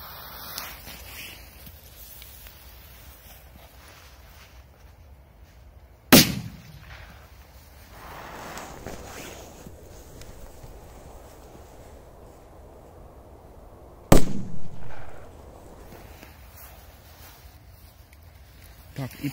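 Two sharp Joker Fireworks firecracker bangs ring out several seconds apart against quiet outdoor background at night, each a single loud crack with a brief echo.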